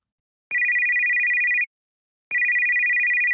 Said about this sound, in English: Few minutes later, her phone rang.